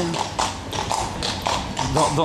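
Carriage horses clip-clop on the cobblestones of the Grand-Place, a steady rhythm of hoof taps running under continuous nearby talking.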